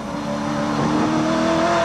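Race car at Bathurst in the 1984 Bathurst 1000, engine droning loud and steady up close as the tail slides out, with a faint tire squeal layered under the continuous roar.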